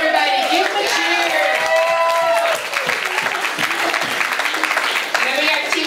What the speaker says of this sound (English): Let's hear for Team Tall, everybody. Give them a cheer.